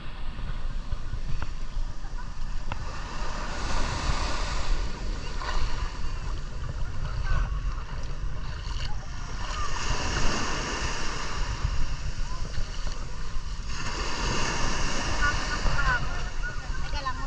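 Rough surf breaks at White Beach, Puerto Galera, with waves surging in broad swells over a steady roar of wind and water, while people talk intermittently nearby.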